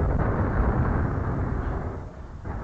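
A dull, sustained rumbling boom from a cannon firing in the video game BeamNG.drive, filling the whole stretch like distant heavy cannon fire echoing, with no voices.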